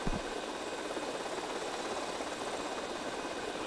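A remote-control toy helicopter flies nearby with a steady, even whirring buzz from its small motor and rotor that holds at a constant level throughout, with no talking.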